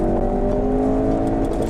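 A Ford RS using launch control, its engine held at a steady high-revving drone, loud and close with strong sustained harmonics and no pause, and no talking.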